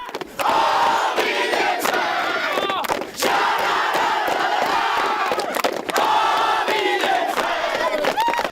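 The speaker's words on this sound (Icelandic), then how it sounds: "Fagnaðarlætin voru gríðarlega í leikslok þar sem leikmenn og stuðningsmenn tóku virkan þátt." Football players and supporters celebrate together after a match win, a loud crowd roaring and chanting in sustained bursts with brief dips between waves of cheering.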